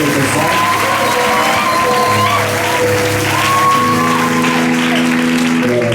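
A church congregation applauding and cheering loudly, a dense sustained wash of clapping with voices calling out and singing tones rising above it throughout.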